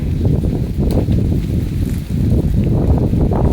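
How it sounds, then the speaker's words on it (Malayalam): Strong wind roars steadily into the microphone, a low, heavy rumble of buffeting gusts with faint rustling on top, continuous throughout. "ഇപ്പം കാറ്റ് ഭയങ്കര കാറ്റ് വന്നു"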